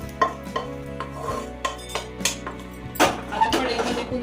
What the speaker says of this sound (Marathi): आता कांदा भाजलेला आहे तो आपण एका ताटामध्ये काढून घेऊया.